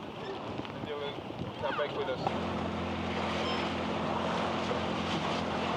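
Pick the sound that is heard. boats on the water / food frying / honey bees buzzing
boats on the water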